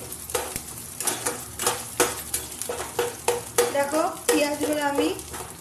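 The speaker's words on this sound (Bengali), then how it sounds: "ভালো করে নেড়ে চেড়ে নিচ্ছি পেঁয়াজগুলো" Onions sizzle in a hot pan while being stirred, loud rhythmic scraping strokes of a utensil over a steady frying hiss, close and without talk.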